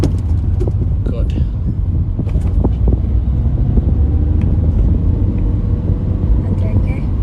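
A car engine rumbles steadily through a driving lesson as the learner works up through the gears, a low droning hum under continuous conversation between instructor and driver.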